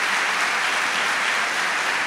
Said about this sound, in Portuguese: vamos dar um aplauso para você